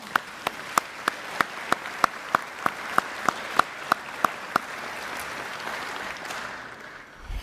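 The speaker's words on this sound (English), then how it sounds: "So let's all give them a round of applause." Audience applause for award nominees at the 2023 South Australia Australian of the Year Awards ceremony, made of a few loud, distinct individual claps at first over a steady wash of crowd clapping that fades out over several seconds.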